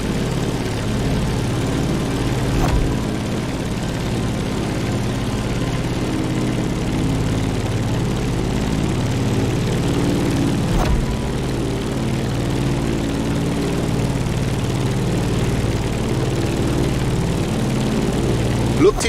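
A propeller airplane in The Crew Motorfest climbs with a steady, droning engine hum that holds at an even level, with occasional faint clicks.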